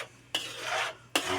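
Spaghetti in milk stirred in a pan with a utensil, two distinct scraping swishes against the metal over a faint background hum, close and without speech.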